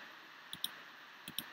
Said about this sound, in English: Just click this open.